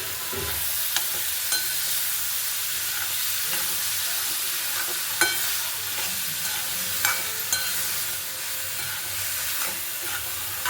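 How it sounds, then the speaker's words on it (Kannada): Spoon stirring tomatoes and salt in a hot pan for tomato gojju, a steady sizzle and fry with soft scraping strokes and a few light clinks throughout, no talking. "ಇವಾಗ ಟೊಮೆಟೊ ಸ್ವಲ್ಪ ಬೇಯಕ್ಕೆ ಉಪ್ಪು ಹಾಕ್ಕೊಂಡು ಮಿಕ್ಸ್ ಮಾಡ್ಕೊಳ್ಳಿ"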